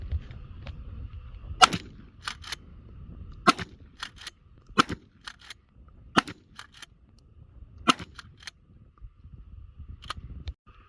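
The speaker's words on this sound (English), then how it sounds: "We're going to go shoot." Shotgun firing cheap Federal Top Gun birdshot at steel targets outdoors: about eight sharp, separate blasts spaced a second or two apart, each with a short ringing tail over a low background rumble.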